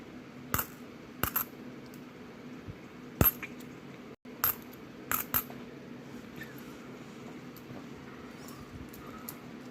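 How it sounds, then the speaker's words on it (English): Coins drop onto a mat, landing in a few scattered sharp clinks and little bounces against a quiet, steady background. "Got to get used to coins bouncing on this mat."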